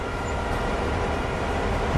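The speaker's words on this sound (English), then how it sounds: "Oh, a train. Hello, train." A train rolls past in Train Sim World, a steady low rumble of wagons and rails holding even loudness throughout, with no talk over it.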